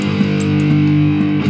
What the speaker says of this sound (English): that's our metal guitars.